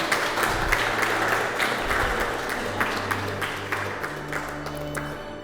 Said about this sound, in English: A big round of applause for Thomas and Dinabee